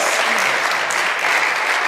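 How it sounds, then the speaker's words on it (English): A church congregation claps steadily through a Sunday service, with dense, even applause holding at a constant level from start to finish and no voices rising above it. "Let's give them a great round of applause."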